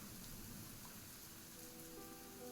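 Rain falls steadily in a visual novel game scene, a faint, even hiss of drops on the ground continuing without pause.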